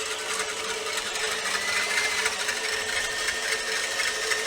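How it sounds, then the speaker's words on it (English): Stand mixer with a whisk attachment beating egg whites for a lemon chiffon pie, giving a steady, loud, continuous whirring drone that runs unchanged through the whole stretch with no talking. "I've got my egg whites in my mixer. I've got the whisk attachment on. I'm going to turn this on"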